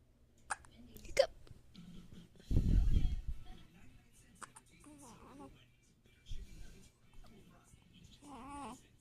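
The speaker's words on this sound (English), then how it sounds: "I'll help with your hiccups." A baby boy has a bout of hiccups: a few soft, short hiccups heard close, interspersed with infant babbling and small cries, with an adult's quiet voice in the background.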